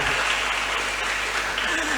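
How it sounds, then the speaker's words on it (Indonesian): A church service congregation claps for the children, a loud, continuous wash of applause filling the whole moment with no pause. "Tepuk tangan buat anak-anak."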